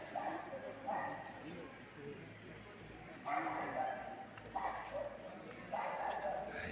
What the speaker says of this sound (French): Alors voilà un chien ramasseur de canettes vraisemblablement.